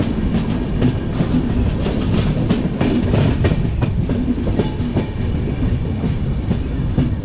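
The Nanda Devi AC Superfast Express runs at high speed between Dehradun and Kota, heard from inside as a continuous loud rumble with rapid, rhythmic clickety-clack of wheels over rail joints.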